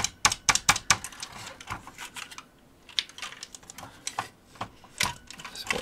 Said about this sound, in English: I'm just working the keys.